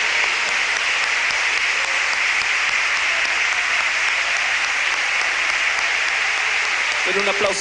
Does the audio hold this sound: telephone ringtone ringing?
no